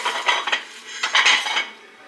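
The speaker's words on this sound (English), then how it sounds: "we just have too many dishes anyway" Black and white dishes clatter and clink as they are handled, with two short bursts of ceramic knocking heard close and fairly loud.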